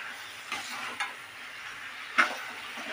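Fried brinjal and potato being stirred into cooked masala for a wedding-style sabzi, a soft steady sizzle with a few spatula knocks and scrapes, the last one sharper, close by.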